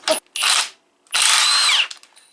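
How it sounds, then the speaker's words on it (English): A Milwaukee impact wrench removing the steering wheel nut on a Jeep Wrangler TJ, firing in three loud, close hammering bursts, the last longest, with no talk. "Now I'm going to remove this nut with my Milwaukee Impact"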